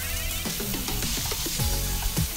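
Thai basil beef stir-fried in a pan with added water brought back to a boil, a steady bubbling sizzle with intermittent scraping and clinking of the spatula, close and fairly loud.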